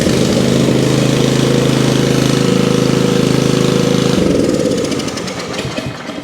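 An Ariens snow blower engine fires on the electric starter and runs at a loud, steady, close-up roar for about four seconds, then its tone shifts and the level drops slightly as it settles.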